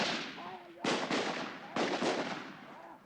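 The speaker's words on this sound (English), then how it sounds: "Now watch out for these grenades." Grenade blasts and gunfire during a combat assault exercise at a settlement, two sharp reports each with a quick echoing crack after it, moderately distant, over faint shouted voices.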